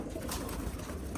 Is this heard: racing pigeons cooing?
yes